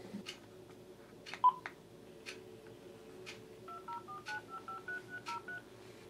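Tablet placing a phone call, a series of short beeping dial tones stepping through a run of pitches near the end, preceded by scattered soft clicks in a quiet room.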